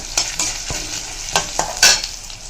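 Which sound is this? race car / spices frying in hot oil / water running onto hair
spices frying in hot oil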